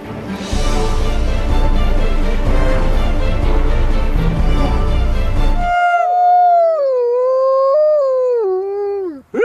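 Wolfdogs howl, first a dense noisy chorus of several animals for about six seconds, then a single long clear howl rising and falling alone, loud and close.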